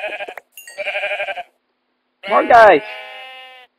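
A person talks briefly, then a loud, wavering sheep bleat from a video game rings out close by, clear and synthetic-sounding, trailing off into silence.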